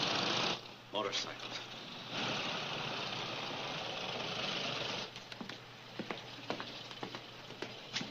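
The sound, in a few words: motorcycles idling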